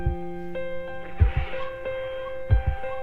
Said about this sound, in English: Oh, the heartbeat coming in.